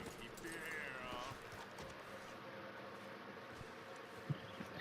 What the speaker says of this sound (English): I'm trying to ride my horse into camp